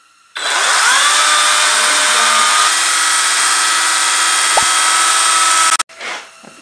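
A 40V SKIL cordless chainsaw whirs up and runs at a steady high-pitched whine for several seconds, then cuts off abruptly.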